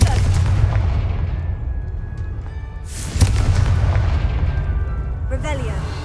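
Confringo fire-blast spell cast in Hogwarts Legacy, a sharp booming burst near the three-second mark over a constant low rumble of game ambience, with a fainter crackling pop near the end.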